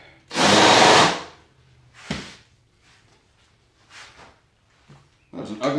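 A handheld power drill spins up in short bursts while cutting a countersink in wood, one long loud whir followed by a few quick brief pulses, with someone talking between them.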